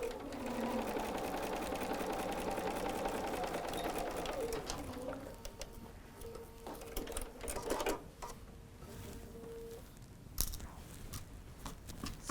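A sewing machine stitches a pieced tree quilt block with a fast, steady whir for about five seconds. It is fairly faint, then stops, leaving soft handling clicks and taps.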